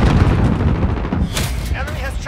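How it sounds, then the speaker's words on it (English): Loud explosive blasts and gunfire from a Call of Duty Modern Warfare match on the Scrapyard map, a cruise missile strike among them, booming continuously and close over dense battle noise, with voices mixed in. "Cruise missile ready to launch."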